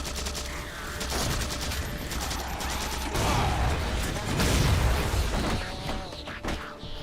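Bursts of gunfire from an unfamiliar weapon in Halo 4 crackle in rapid clusters over a busy battle backdrop, loud and close, with a heavier boom midway and scattered mechanical clatter.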